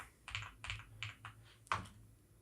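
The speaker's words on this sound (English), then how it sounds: "So I'll type in localhost /PHP mini course" A few quiet keystrokes on a computer keyboard, five or six distinct taps in a short, faint burst.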